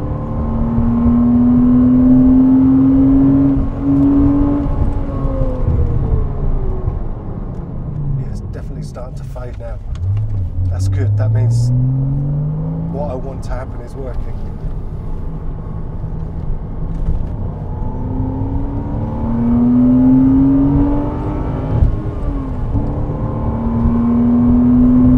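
Porsche Cayman 987 on a track lap while bedding in EBC Bluestuff NDX pads, engine drone rising and falling steadily from inside the car as people talk over it.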